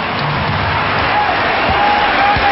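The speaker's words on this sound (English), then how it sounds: "And this crowd comes alive with 5:59 to play in the fourth." Arena crowd at an NBA game between the New Jersey Nets and Phoenix Suns, a steady roar of cheering and applause filling the space late in the fourth quarter, continuous and fairly loud throughout.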